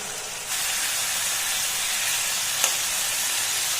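Vegetables with jackfruit seeds and red pumpkin shoots frying in a pan, a steady close hiss and sizzle with no talk, one brief clink partway through.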